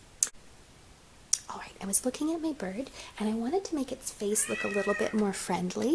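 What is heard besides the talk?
cat meowing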